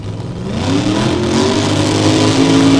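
Mustang funny car engines rev at a drag race, a loud, rising mechanical roar that builds quickly and holds near, with no voices.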